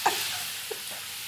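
Potatoes frying in a pan in a home kitchen give off a steady, close sizzle with a couple of light clicks of stirring, and no one speaks over it.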